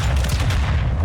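Heavy gunfire and booming blasts aimed at a vehicle in Call of Duty Warzone 2 Armored Royale, a dense, loud, continuous barrage with deep low rumble and no clear gaps.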